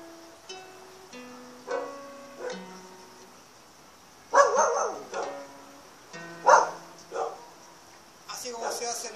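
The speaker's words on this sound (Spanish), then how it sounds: "disculpa que tengo estos perros ladrando" Several dogs bark in short bursts over a guitar playing a pentatonic scale run, with the barks growing louder and overlapping partway through.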